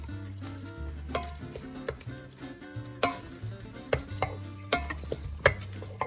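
A wooden spoon stirs pesto pasta in a pot. Repeated scraping and thudding strokes come close up against a low, humming hum, with occasional sharper knocks. No voices can be heard.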